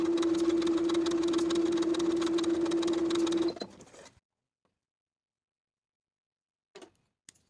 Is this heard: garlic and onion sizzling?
no